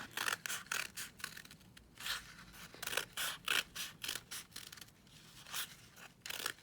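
Scissors snip through scrap paper in a quick series of crisp, close cuts with short pauses between them, heard on their own without talk.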